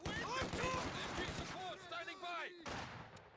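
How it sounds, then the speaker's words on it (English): Machine gun fire in the WWII strategy game Company of Heroes 2, with rapid bursts and sharp shots over battle noise, heard under a commentator's voice. "The MG gets a nice good lick of damage in there."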